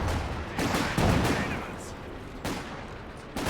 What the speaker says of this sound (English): second mortar barrage coming in